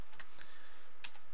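A few keys are tapped on a computer keyboard in a quiet room, with brief, crisp clicks spaced irregularly across a moment.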